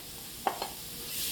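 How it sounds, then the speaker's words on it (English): Chicken dropped into a frying pan over a low flame: two quick clacks followed by a soft, steady sizzle, quiet and close, with no voices. "So we're gonna add this to our frying pan"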